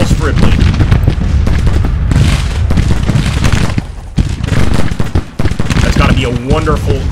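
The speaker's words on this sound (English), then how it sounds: "A wonderful feeling to fire that musket at former slave owners, for goodness sakes." Civil War musket volleys and booming artillery crackle through a battle in Grand Tactician: The Civil War, dense repeated gunfire under a steady din of combat with brief lulls, loud and continuous throughout.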